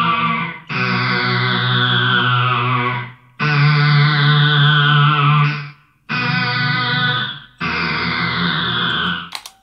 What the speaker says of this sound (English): that's just the way I was playing it with the sort of synth pedal on